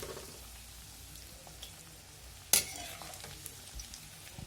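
Garlic frying in hot oil, a faint, steady sizzle and crackle near the pan, with one sharp clatter partway through.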